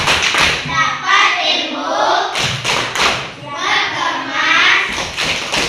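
Children in a classroom chant a rhythmic 'tepuk pulang' going-home routine, sharp claps landing in steady beats under loud group voices.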